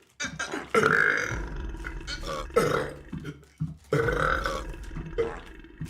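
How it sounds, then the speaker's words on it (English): Several loud, drawn-out burps from a person during a livestream, coming in separate bursts close to the microphone with short gaps between them. "Do you want to burp a couple times?"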